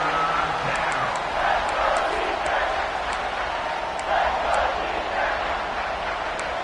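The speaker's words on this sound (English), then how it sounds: "This crowd is trying to inspire this defense to make a big red zone stop." A football stadium crowd at an Oklahoma versus Missouri game roars in a broad, continuous wash of noise, steady and loud throughout, with a commentator's voice faintly underneath.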